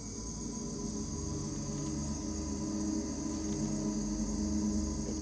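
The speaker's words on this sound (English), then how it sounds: "Look, a tree cricket, a very small one." A small tree cricket chirps at night, a steady continuous high trill close by with constant insect drone and no talk.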